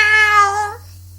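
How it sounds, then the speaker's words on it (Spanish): A single cat gives one loud, close, angry meow after an acrobatic leap, harsh and drawn out before breaking off into quiet. "el gato de las guindillas dio simultáneamente un acrobático salto acompañado de rabiosos maullidos"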